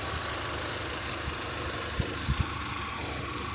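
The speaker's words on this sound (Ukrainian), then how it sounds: "Моторчик працює Рівненько, гарненько." A used car's engine idles steadily with an even low rumble, close up, with a few faint clicks and no talking.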